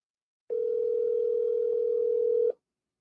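A telephone dial tone plays while a call to dad is placed, one steady continuous tone holding for about two seconds, clear and alone, then stopping abruptly.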